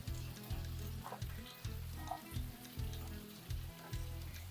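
Mustard seeds and sesame seeds fry in hot oil for a Malayalam drumstick curry, giving a steady loud sizzle with rhythmic crackling bursts and pops that swell and ease about every second, with no voices over it.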